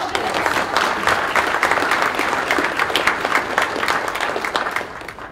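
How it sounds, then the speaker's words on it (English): An audience at a livestock auction industry forum gives a full round of applause, dense and even throughout, tapering slightly at the end. "I'll give her a round of applause."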